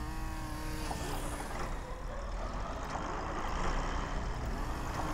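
Several game trucks hauling wood in OpenTTD produce a continuous low engine drone and traffic rumble, steady and moderately loud throughout, with no voices over it.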